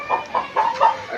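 A large rooster weighing about two to two and a half kilograms gives about five loud, close clucks in quick succession.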